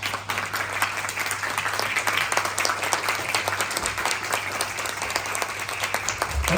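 Sustained audience applause fills the room at a talk held in a Thai restaurant, a steady dense patter of many hands clapping, fairly near and even in level throughout with no voices over it.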